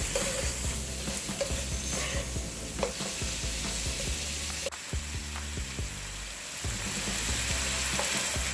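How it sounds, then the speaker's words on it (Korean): Shrimp and squid are stir-fried in a hot pan with mirin and pepper. A continuous sizzle is broken by repeated scraping and tossing strokes of a spatula, with a sharp clatter near the middle. There is no talking. "익을 때까지 충분히 볶아줍니다."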